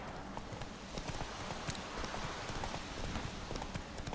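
Horse hooves clip-clop in a fast, steady rhythm in The Witcher 3, a dense run of close thuds under a constant wash of background noise.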